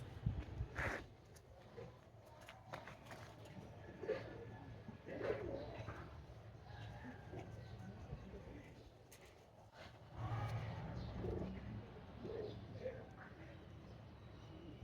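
Lakha pigeons coo softly in a low, rolling murmur throughout, with occasional wing flutters and faint background voices and traffic.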